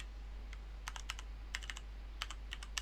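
Keys on a computer keyboard clatter in short bursts of crisp clicks while text is typed into a QEMU virtual machine setup, close and fairly quiet over a steady low hum, with no talking.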